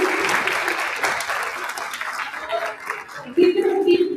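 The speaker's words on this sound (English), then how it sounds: "Give them a big round of applause." An audience at a real estate association event applauds chapter leaders, a burst of many hands clapping that thins out, with voices and a cheer rising near the end.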